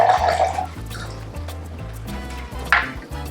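One ounce of freshly opened lime juice is poured for a ginger beer margarita, a brief close trickle and drip of liquid over low background music.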